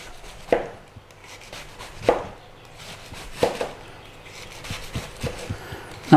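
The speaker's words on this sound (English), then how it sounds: "So let's start with the cabbage. And we thinly slice." Knife thinly slicing cabbage on a cutting board for vegetable spring rolls, a series of spaced, fairly loud chopping thuds roughly a second apart, close by, with no talking.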